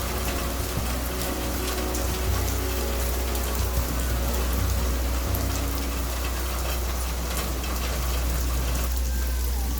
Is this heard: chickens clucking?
no